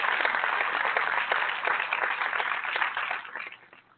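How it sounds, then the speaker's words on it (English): A short round of clapping and applause from a group on a talk radio show, a dense, moderately loud patter that fades out toward the end. "Let's applaud him."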